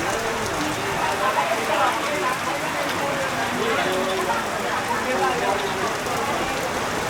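Steady rain pours down in Cherrapunji, Meghalaya, a dense, even hiss of drops spattering on surfaces close by, with a person talking over it.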